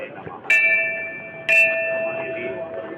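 A temple bell at the Golju shrine is struck twice, each loud metallic clang ringing out with a long sustained hum that decays slowly between and after the strikes, over a faint crowd murmur.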